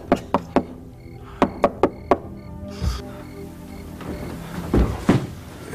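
Sharp knocks on a door come in two quick groups of three, loud and close, then give way to quieter shuffling and a couple of dull bumps.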